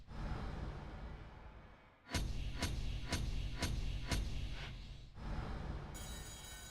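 An alarm rings in the Saints Row video game, loud repeated pulsing bursts over busy game noise, about six evenly spaced hits in a row, then a steady high tone near the end.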